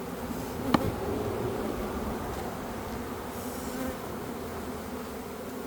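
A steady, close-up hum of many honeybees buzzing around a brood frame pulled from a hive during a split, with one brief sharp click partway through.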